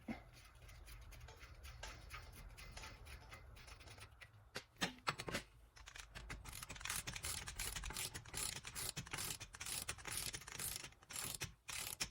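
A ratchet tightens the axle nut on a Nissan Altima during a front wheel bearing replacement. After some quiet handling it gives rapid, close clicking bursts in repeated strokes that grow louder and denser toward the end.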